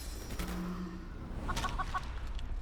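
A chicken in the fantasy RPG Divinity: Original Sin 2 clucks in a short burst of several rapid clucks, set against steady game ambience and a low sustained tone.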